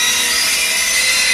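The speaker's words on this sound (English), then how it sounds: "Chainsaw." A chainsaw drones in a loud, continuous, gritty roar at the opening of a 1976 song, with no voices over it.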